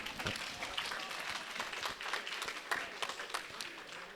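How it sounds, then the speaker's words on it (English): An audience at a Colorado Hall of Fame banquet claps for the sponsors, a soft, scattered patter of hands with distinct individual claps, fairly faint and continuous. "So a big round of applause to all of our sponsors,"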